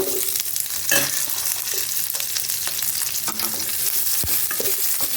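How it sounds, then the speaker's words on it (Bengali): Onions sizzle steadily in hot oil in a pan with a bay leaf, a whole chilli and panch phoron, with occasional stirring scrapes over a continuous close frying hiss; no voices. "পেঁয়াজগুলো একটু লাল লাল করে ভেজে নেব"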